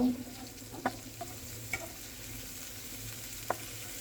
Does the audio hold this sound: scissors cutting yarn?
no